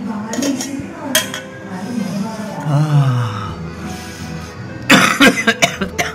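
A person with a throat infection coughs in harsh, separate bursts: a couple early on, then a tight cluster of hacking coughs near the end. Faint clinks of dishes sound in between.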